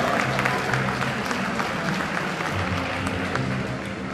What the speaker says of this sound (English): Give a cheer for Hedras Ramos!